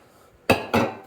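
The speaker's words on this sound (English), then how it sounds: "you get a bowl that can collect the water as it goes through the machine" A bowl set down on the drip tray of a DeLonghi La Specialista espresso machine during cleaning, giving two quick, close, hard clacks in succession.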